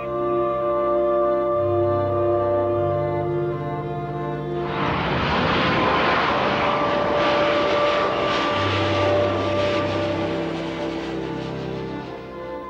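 A fixed-wing airliner on approach to a runway roars past overhead, swelling from a low drone into a loud broadband rush midway, then slowly fading.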